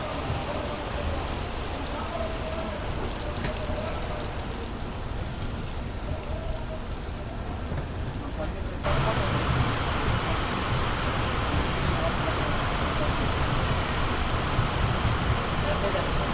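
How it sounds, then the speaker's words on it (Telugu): Heavy rain pours steadily as a dense, hissing wash over a train journey near Madanapalle Road station, growing louder and fuller partway through, with no talk over it. "వర్షం అయితే మాత్రం ఒక రేంజ్లో అయితే పడుతుంది ఇక్కడ"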